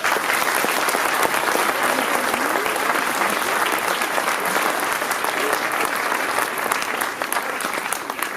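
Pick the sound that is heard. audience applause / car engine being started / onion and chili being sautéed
audience applause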